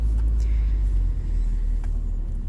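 A 1996 Honda Accord engine runs at a steady idle close by, a dense low rumble holding even throughout with no talking.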